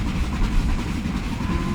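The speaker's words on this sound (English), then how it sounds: "the train will gradually continue to accelerate" A Black 5 steam locomotive in Train Simulator 2015 rumbles steadily as it accelerates, a dense, loud, continuous chuffing roar with rolling wheel noise.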